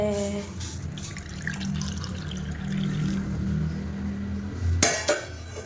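Hot water pours from a kettle or pot into a container in a home kitchen, a steady splashing stream that runs for several seconds, then a brief clatter of dishware near the end.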